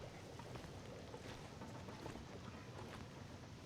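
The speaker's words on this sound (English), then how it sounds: "it's sounding windy out there. I'm hearing wind sounds." A blizzard howls outside in the survival game The Long Dark, a faint, continuous rush of wind noise with gusty swells and no voices.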